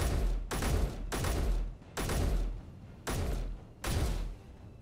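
A rapid assault rifle with a 50-round magazine fires in Space Engineers in six rough, booming bursts, each under a second long, with short gaps between them and no talk.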